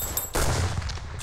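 Gunfire in the Roblox game Arsenal: a sudden loud burst of shots starts partway through and runs dense and rapid to the end, with no talk over it.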